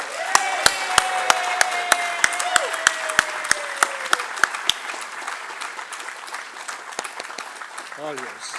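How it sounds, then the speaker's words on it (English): An audience at a stage event bursts into loud, steady rhythmic applause, the sharp claps landing in an even beat for several seconds. A voice speaks over it and the claps thin out toward the end. "give a big, loud applause"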